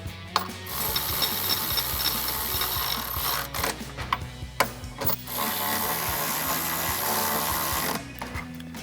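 Ratchet driving a 13mm socket to tighten bolts on a running board bracket of a 2024-2025 Toyota Tacoma, close and loud. A steady fast clicking runs through most of the stretch, with short pauses and a few bursts of ratcheting strokes.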